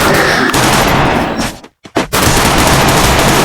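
Loud, dense gunfire in the Free Fire video game, sustained rapid bursts with one short pause in the middle.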